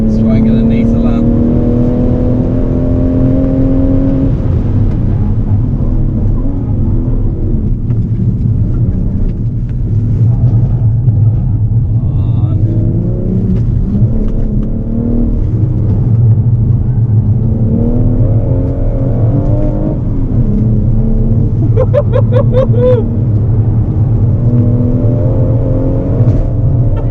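A BMW M140i's engine drones and revs steadily on a lap of Llandow Circuit, a loud continuous rumble rising and falling through the gears as people talk inside the car.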